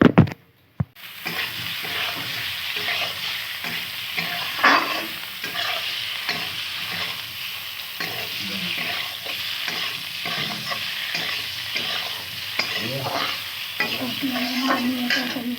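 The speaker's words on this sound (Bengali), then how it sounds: "এবার আলুটা ভেজে নেব।" Potato pieces fry in a hot pan for a thin egg-and-potato curry, giving a loud, steady, close sizzle. Occasional stirring scrapes break through it, and no one speaks.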